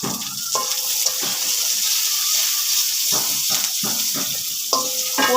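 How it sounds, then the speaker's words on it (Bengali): Food being stirred in a hot pan during home cooking: a steady, loud sizzle and frying hiss with scraping stirring strokes running through it. "এবার আমি একটু নাড়া দিয়ে দিব।"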